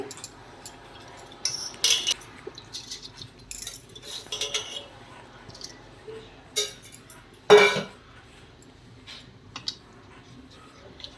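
Rice is mixed in water inside a pot for Hyderabadi dum biryani, with sporadic metallic clinks and scrapes of a spoon against the pot over a quiet background.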